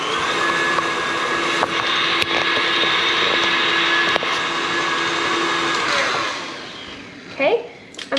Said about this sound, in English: Okay, I'm going to lift back up my mixer.